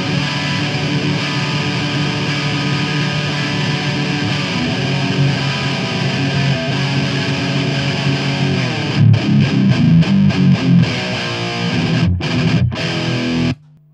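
Distorted electric guitar strums big open chords with ringing open strings through a Marshall Valvestate amp, loud and sustained throughout, with choppier rhythmic strums near the end before cutting off.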